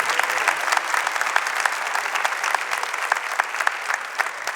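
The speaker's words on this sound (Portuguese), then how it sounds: "Pode aplaudir o Espírito Santo." A church congregation claps steadily during a Catholic service led by a priest, dense sustained applause filling the room for several seconds with no speech over it.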